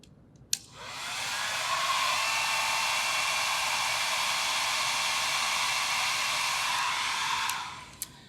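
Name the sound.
hair dryer running on high setting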